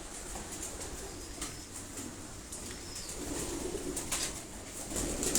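Breeder pigeons in cages, low steady cooing with some wing flapping and rustling, moderately close and continuous, no voices over it.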